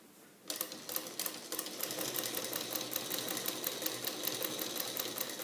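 A sewing machine stitches fabric for a shaped facing with a slit opening, starting after a brief quiet moment into a fast, steady mechanical clatter of rapid needle strokes, close and continuous to the end.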